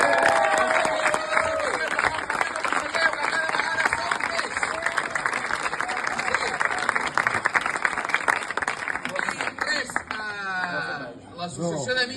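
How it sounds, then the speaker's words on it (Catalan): A festival-day crowd in Sant Feliu de Buixalleu applauds the local festival committee with dense, sustained clapping that stays loud for about ten seconds before thinning, with a few voices and cheers rising near the end. "Un aplaudiment a la Comissió de Festes de Sant Feliu de"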